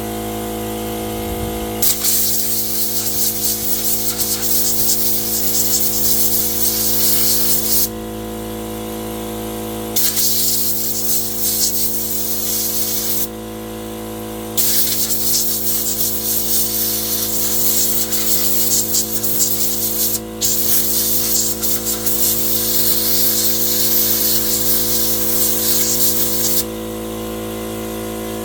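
Loud hissing spray from a pressure washer in several long bursts with short pauses, over a steady droning motor.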